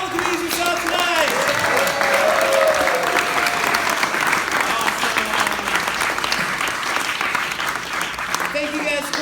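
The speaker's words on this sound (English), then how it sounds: "Round of applause for all the comedians you saw tonight." Comedy club audience applauding the comedians at the end of a standup show, sustained dense clapping and cheering throughout, loud and close, with voices mixed in.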